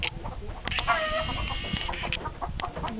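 Fighting cocks housed in chicken pens cluck and crow nearby, a drawn-out rooster call rising in the middle over a busy bed of overlapping clucks and farmyard noise.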